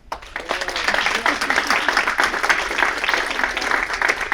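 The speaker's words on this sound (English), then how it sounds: "Big round of applause for Sophia Luo" A crowd applauds Sophia Luo at a Lunar New Year celebration in Aurora, a dense, steady burst of clapping that rises quickly and holds for several seconds.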